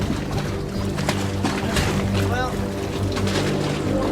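A sailboat's engine idles at low throttle in gale conditions among icebergs, a low steady drone mixed with water and wind noise while a person speaks briefly.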